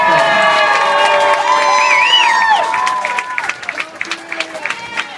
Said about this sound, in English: Can we give a special round of applause